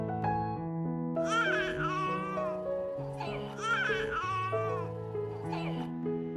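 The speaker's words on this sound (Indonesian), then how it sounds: "tiba-tiba dia mendengar suara tangisan anak bayi" An infant wailing in a scene from an action film, repeated rising and falling cries over a continuous bed of sustained music, close and fairly loud.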